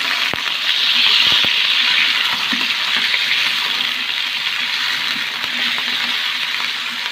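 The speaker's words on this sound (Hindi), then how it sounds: "मैंने इसको इतना फ्राई करना है कि इसका कलर तब्दील हो जाए, इस तरह से।" About half a kilo of chicken mince fries in a hot pan with a loud, steady sizzle, punctuated by occasional scrapes and stirring knocks.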